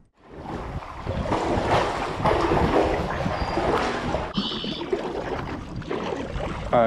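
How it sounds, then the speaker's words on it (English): Steady strong wind roaring and buffeting a microphone outdoors on a fishing paddle board, continuous and loud, with choppy water noise underneath. "It's so windy right now."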